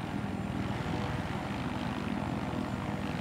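A video game helicopter turning left on the spot gives off a steady, even rotor and engine drone, a continuous rumbling whir at a constant level with no voices over it.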